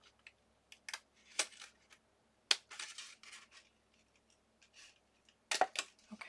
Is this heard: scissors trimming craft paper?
yes